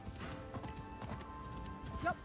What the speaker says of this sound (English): It's actually quite hard riding through the forest on a horse in this game.